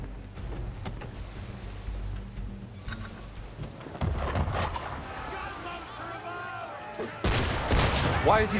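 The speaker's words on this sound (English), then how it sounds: "Why is he shooting at us?" Gunfire from the video game Assassin's Creed III, with scattered muffled shots and booms over wind and water ambience that grow louder toward the end, under some faint talk.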